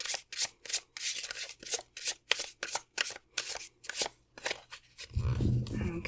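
Tarot cards are shuffled in a quick run of crisp, rhythmic riffles, close and clear, with a soft thump at the end.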